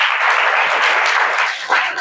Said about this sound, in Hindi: जिन्होंने सच बोला अपने लिए ताली बजाओ।